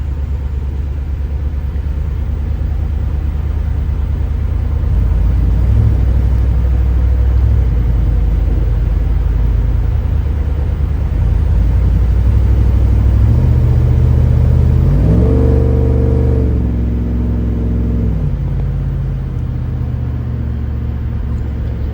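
A cammed 2024 GMC 1500 4x4 pickup with a swapped 6.6L engine drives steadily, its deep engine rumble continuous throughout, with a rising rev and gear-change steps around the middle before settling back to cruise.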